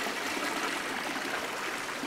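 Water running in a small stream, a soft continuous trickling wash that stays faint and even throughout, with no talking.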